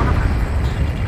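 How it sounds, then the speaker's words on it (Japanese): A big underwater explosion in the air combat video game Ace Combat 7 rumbles as a dense, continuous low boom, loud and sustained throughout. "なんだ、水中ででけえ爆発が起こった。"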